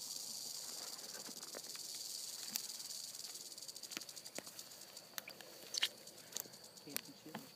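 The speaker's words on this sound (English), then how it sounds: "That is a rattle bug." A rattle bug, a cicada, buzzes in the brush during a Texas hog hunt, a thin continuous high drone with scattered ticks and rustles nearby, fairly faint and steady throughout.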